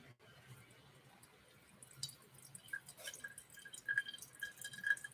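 Water is poured over coffee grounds in a pour-over brewer, making a faint, soft trickle that grows steadier and louder toward the end, with small drip-like splashes and no talk.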